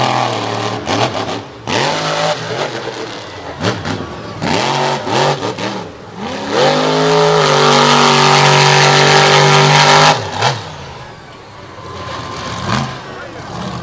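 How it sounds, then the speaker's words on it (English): At Jennerstown Speedway a monster truck spins its tires on pavement, engine revving in repeated rising and falling surges before a long sustained roar, with an announcer talking over it. "Burning more tread off those China tires on the pavement here at Jennerstown Speedway, going move to move."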